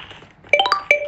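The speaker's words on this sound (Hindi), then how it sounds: "ओ मेरे दोस्त का फोन आ रहा है" A phone ringtone plays for an incoming call from a friend, a quick bright chiming melody of several close, fairly loud notes that starts after a brief quiet lead-in.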